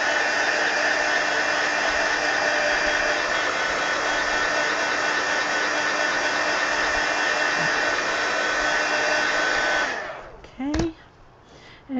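A heat gun blows a steady, loud, broadband roar for about ten seconds while it dries paint on a coloring book page, then it switches off and a few brief handling sounds follow.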